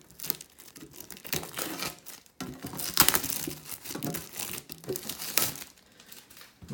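Crinkly plastic and cardboard packaging is torn and crumpled while a 2018 Yu-Gi-Oh! Mega-Tin is opened. The irregular rustles and tearing bursts come up close and fairly quiet, with a brief pause partway through.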